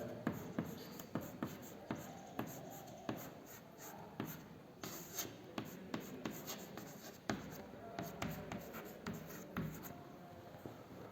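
Chalk writing on a board during a chemistry lecture, a steady series of quick tapping strokes and scratches, faint and close, with no speech.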